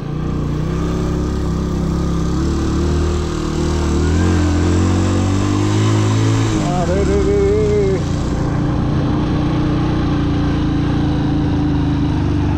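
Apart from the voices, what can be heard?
motorcycle engine straining up a steep hill road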